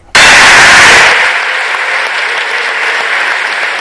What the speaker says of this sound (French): Un progrès remarquable accueilli par un applaudissement nourri